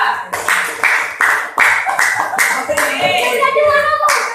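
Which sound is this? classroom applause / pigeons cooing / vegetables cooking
classroom applause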